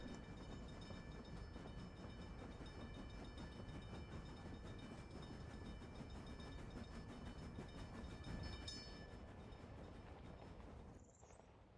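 A train in the city-building game Workers and Resources rumbles past steadily, a continuous rolling roar with faint rhythmic clatter, tapering off near the end; the tone sounds slightly synthetic and game-like.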